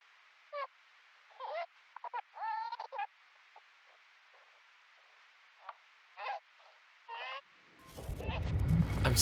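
Chickens cluck in short, separate bursts, some quick and stuttering, with quiet gaps between them. A loud, rumbling noise comes in near the end and buries everything.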